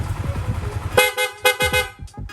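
A car horn, switched between stock, loud and rapid horns, sounds in a series of sharp, loud blasts, some short and rapid, with faint voices underneath at the start.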